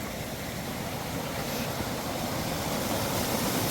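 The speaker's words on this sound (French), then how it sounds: "On est en haut de la cascade." Waterfall in the Jura, heard from the top of the falls: a steady, close, full roar of rushing water that holds even and unbroken throughout, with no voices.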